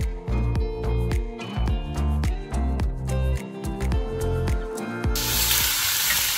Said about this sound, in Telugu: ఇప్పుడు సన్నగా తరిగి పెట్టుకున్న ఉల్లిపాయలు దీన్ని వేసేసుకుంటున్నాను